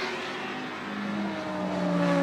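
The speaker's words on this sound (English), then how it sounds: "Mark Blundell flooring it again on the RS 2000" A Ford RS 2000 touring car at a Goodwood race, engine at full throttle and climbing steadily in pitch as it accelerates, loud and close throughout with no talk over it.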